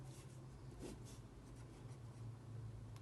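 Pen or pencil writing by hand on paper while working out a search algorithm problem: a faint, steady scratching that runs throughout, close but very quiet, with no talking.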